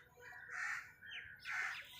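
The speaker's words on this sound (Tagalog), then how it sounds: "Ang daming ibon." Several birds chirp and call outdoors in faint, high-pitched bursts at a distance, repeating in a loose rhythm over a soft background.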